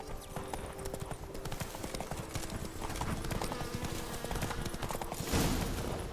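Roach the horse gallops in The Witcher 3: Blood and Wine, a steady run of hoofbeat clip-clops with game ambience and a brief louder burst near the end.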